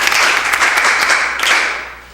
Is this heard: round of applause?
yes